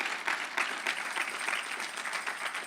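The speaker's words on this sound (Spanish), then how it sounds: "Dale un aplauso al Señor, hermano." A church congregation applauding during a Sunday service, giving a steady wash of clapping that stays fairly faint and distant for a few seconds.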